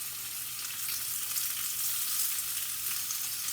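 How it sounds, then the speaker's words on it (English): Flounder seasoned with lemon pepper and salt fries in a thin layer of oil in a pan, a continuous close, even sizzle with no voices. "So I'm just gonna we're gonna put this in our pan and have a little bit of oil."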